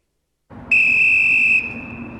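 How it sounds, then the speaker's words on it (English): A single shrill, steady train whistle blast at Belfast Grand Central Station sounds loud and close for about a second, then fades to a softer tone over a low background hum. "One small whistle signified the start of a big change in Belfast"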